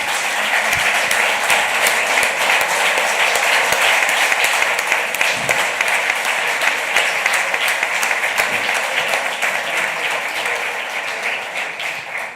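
A large audience at a formal signing event between Spanish business confederations breaks into sustained applause, dense and even throughout, then slowly tapering toward the end with no talk over it.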